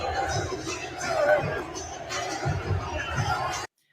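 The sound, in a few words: crowd cheering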